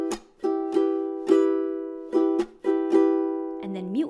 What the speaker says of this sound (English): So chucking would sound like this.